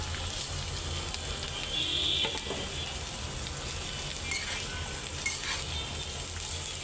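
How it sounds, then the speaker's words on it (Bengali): Sliced bitter gourd and onions frying in hot oil, a steady, fairly close sizzle that runs throughout with faint clinks and stirring, and no talking. "তেলটা গরম হয়ে গেছে, পেঁয়াজগুলি হালকা আগে একটু ভাজে নিই। করলাগুলো দিয়ে দিই।"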